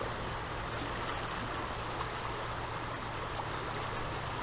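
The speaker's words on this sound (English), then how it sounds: "I'm looking at the river again further up the stream." A river stream flows in a steady, broad rush of water with no breaks or changes, heard from nearby at a fairly quiet level, with no voices over it.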